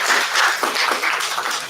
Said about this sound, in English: Giving a huge round of applause to our esteemed guest